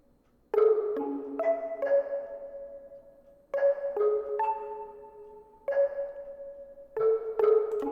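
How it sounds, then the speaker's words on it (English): A synth pluck in a melodic trap beat plays a repeating melodic pattern of short bright notes with quick decays, looping in a steady rhythm, clean and up front. "Let's listen to that pluck."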